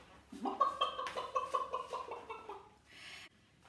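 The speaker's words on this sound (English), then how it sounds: "There was clucking," A chicken clucks in a rapid series of rising, fluttering calls, close and clear, ending with a short breathy rustle.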